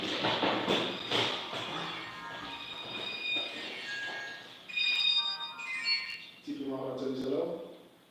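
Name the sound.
phone ringtone ringing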